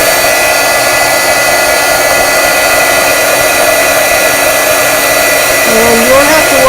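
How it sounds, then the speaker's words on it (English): A heat gun used for embossing warms up with a steady, loud, close blowing roar and a constant motor whine, while a voice talks briefly near the end. "have your heat gun heat up a little bit warm before you start embossing or heating something"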